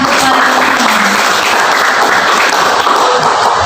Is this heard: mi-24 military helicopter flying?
no